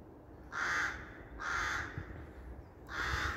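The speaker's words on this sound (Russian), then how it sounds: "А ворон возмущается, Роська, на твое поведение." A raven gives three loud, harsh caws outdoors in cold weather, each a rough drawn-out croak spaced about a second apart, standing out clearly against quiet background.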